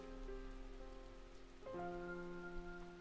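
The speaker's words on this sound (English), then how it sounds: "The sound of the rain outside our dark little room seems to grow louder." Rain falling outside a dark room in the visual novel Fruit of Grisaia, a faint, steady hiss under sustained musical tones that shift midway.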